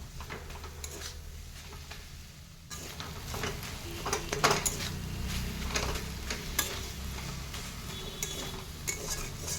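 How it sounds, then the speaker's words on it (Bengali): A metal spatula pressing and mashing cooked red amaranth greens with potato and eggplant in a pan, giving repeated close scrapes and taps over a low sizzle, quieter at first then busier, with no talk. "আর এইভাবে খুন্তির সাহায্যে চেপে চেপে একটু মাখো মাখো করে নিব শাকটা"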